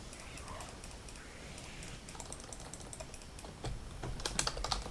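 Fingers tap out a quick, irregular run of light clicks on a computer keyboard during a Heroes of the Storm gaming session. The typing is close and grows busier and louder toward the end.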